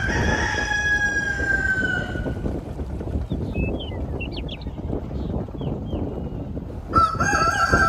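A rooster crows loudly and close by in a riverside village, with a second crow near the end, over steady outdoor background noise and faint distant bird calls, with no one speaking.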